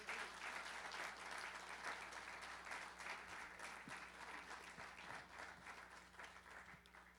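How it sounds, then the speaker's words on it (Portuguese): A church congregation claps together in sustained, dense applause that carries on evenly for several seconds. "eu peço para vocês darem uma salva de palmas para o Senhor Jesus"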